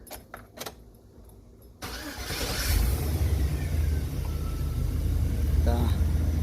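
A 2006 Chevy Express 2500 van's 4.8 V8 cranks and fires up after a fuel pump replacement on a full tank, a short burst of starter whir turning into a steady, loud idle rumble that carries on to the end.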